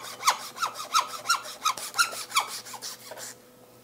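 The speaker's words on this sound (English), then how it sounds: "cutting through the muscle first and then following behind with the saw" Hand saw cuts through lamb shank bone with about ten rhythmic rasping back-and-forth strokes, close and moderately quiet, ending abruptly as the cut stops.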